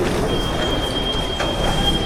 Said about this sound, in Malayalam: അതായത് ഡ്രൈവറില്ലാതെ ഓടുന്ന ട്രെയിനാണ്